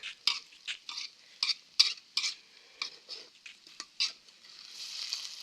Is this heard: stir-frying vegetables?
yes